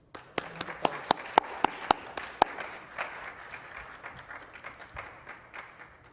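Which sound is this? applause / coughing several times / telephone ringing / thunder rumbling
applause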